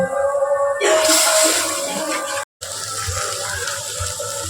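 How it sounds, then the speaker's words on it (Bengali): Rinse water from a spice bowl splashes into masala cooking in a pan, a short hissing sizzle and pour that breaks off abruptly, followed by quieter frying sounds. "মশলার বাটি ধোয়া জলটা দিলাম।"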